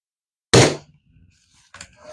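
A 1998 Daisy Red Ryder BB gun misfires with one sharp, loud crack that fades quickly, followed by a faint handling noise.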